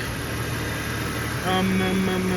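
A 1994 Jeep Cherokee Sport XJ with a 4-liter Jasper engine and cold air intake idles steadily nearby, a low even rumble that gains a tonal whine and grows slightly louder partway through.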